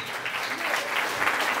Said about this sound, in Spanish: vamos a recibir con fuertes y calurosos aplausos